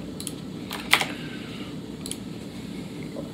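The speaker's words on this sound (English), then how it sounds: "I'm actually typing into a Google Doc." Fingers tap on a computer keyboard in a few sparse, light clicks close by, with one sharper keystroke standing out, over a quiet room hum.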